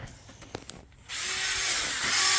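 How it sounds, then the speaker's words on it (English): A secondhand power drill found in an abandoned storage unit is switched on for a test, starting with a few faint knocks before a sudden steady whirring run that holds loud to the end. "Well, it works. It's a nice drill too."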